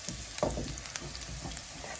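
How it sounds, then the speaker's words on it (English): Tomatoes sautéing in oil in a pan, with a soft sizzle and a few gentle stirring scrapes, close and fairly quiet throughout. "Let me just give this another quick stir."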